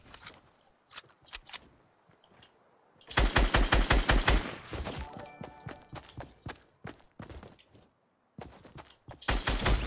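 Rapid automatic gunfire in the video game Fortnite, with dense bursts of shots starting after a quieter opening, continuing in loud clustered volleys and a final burst near the end.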